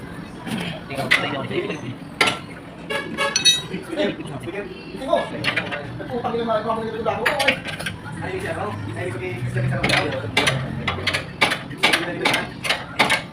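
Ratcheting and clicking of a camber board being tightened during a manual camber alignment on a Toyota Hilux, irregular metallic clatter close by, mixed with workshop noise and someone talking over it.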